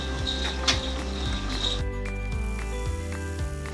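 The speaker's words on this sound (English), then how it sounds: "Okay, so we're going to run our satin stitch now." Embroidery machine sewing a satin stitch, a steady close mechanical hum with fast regular needle clicks and a periodic rhythmic thump, a faint whine early on, running alone.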